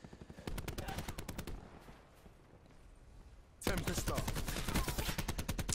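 Rapid submachine gun bursts in Black Ops 4, sharp repeated shots in two clusters with a quieter gap between, loud and close in a busy multiplayer match.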